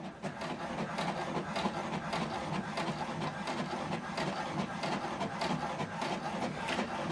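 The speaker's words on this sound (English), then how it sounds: "Now it's printing the document." An HP DeskJet 2800e inkjet printer runs steadily through a print job, a continuous close mechanical whir and rattle with a repeating rhythmic carriage pulse and no talking.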